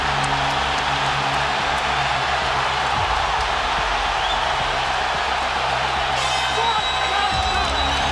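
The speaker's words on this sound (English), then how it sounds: "They are standing and cheering it." Roaring arena crowd after a UFC fight, a continuous loud wash of cheering and shouting that fills the space without letup, with a few sharper whoops rising near the end.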